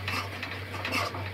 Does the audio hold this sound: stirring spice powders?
yes